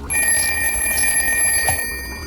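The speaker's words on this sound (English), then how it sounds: "A ringing phone." A telephone bell rings steadily and close, a bright metallic trill held for about two seconds with no talking over it.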